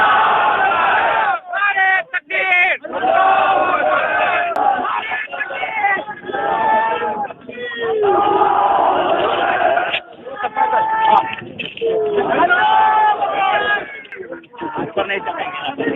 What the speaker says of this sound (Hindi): शुरू हो गई धार्मिक नारेबाजी।